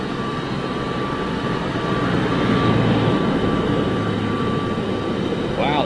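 Embraer jet of RAM seen at Lisbon airport, its engines a steady broadband roar that swells slightly midway, with voices talking underneath.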